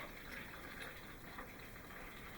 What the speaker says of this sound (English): I'm going to add a little more water.